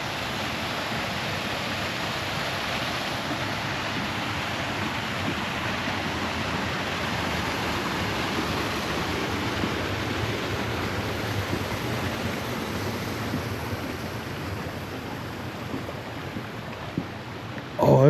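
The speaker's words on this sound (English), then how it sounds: "The sound of the falls, you can already hear that" A small waterfall beside an accessible path roars in a continuous, steady broadband rush, close and loud, with no break or change in level across the whole stretch.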